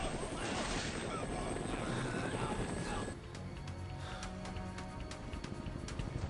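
A helicopter in the video game Dead Rising roars with a loud, dense whirring drone that drops to a lower, steadier hum halfway through, with faint rhythmic thuds beneath.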